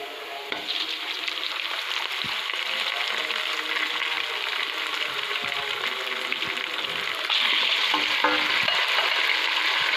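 Boiled beef frying in a pan, a loud continuous sizzle with occasional stirring scrapes, growing slightly louder toward the end.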